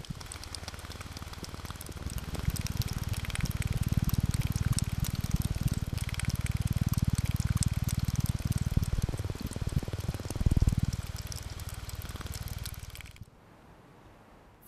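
Meltwater trickles and pours from a melting glacier in a steady, close rushing flow that swells in the middle and then cuts off near the end.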